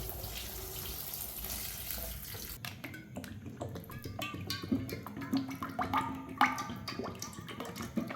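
Cold water runs from a kitchen tap onto overcooked food being cooled, a steady splashing stream with some clinks, fairly quiet and with no speech.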